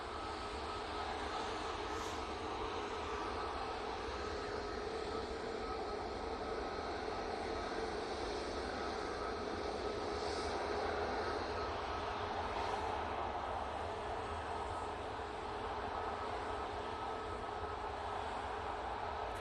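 Boeing 737 MAX jet taking off on a long runway roll at Manchester Airport with derated thrust, heard as a steady, broad engine roar that holds at an even level throughout with no talk over it.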